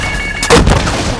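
A single loud gunshot cracks out mid-clip with a booming tail, preceded by a faint steady tone, in Call of Duty: Modern Warfare II (2022).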